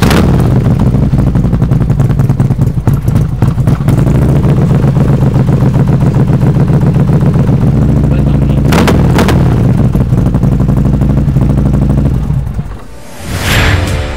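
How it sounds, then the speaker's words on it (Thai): A Harley-Davidson CVO Touring motorcycle with a 110 engine and Freedom exhaust idles loud and close, a deep uneven rumble with sharp blips, before it shuts off near the end. "ตัวนี้เป็นคันแรกเป็น CVO เนี่ยเสียงเป็นยังไง"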